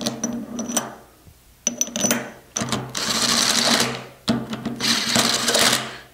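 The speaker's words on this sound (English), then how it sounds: "And just lightly impact them on there." An impact wrench tightens bolts on a V10/V20 vane pump, firing in several loud, close rattling bursts separated by brief pauses.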